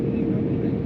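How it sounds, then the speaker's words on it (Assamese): Steady airplane cabin rumble during the landing descent into Kolkata airport: a dense, low roar that holds constant through a brief moment with no clear voices on top. "প্লেন আহি তল পাই গ'ল।"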